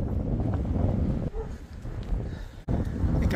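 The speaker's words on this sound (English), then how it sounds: "Oh, the wind's getting up." Wind blows steadily at the seaside, a loud, continuous low rumble that buffets the microphone, dipping briefly twice before surging back.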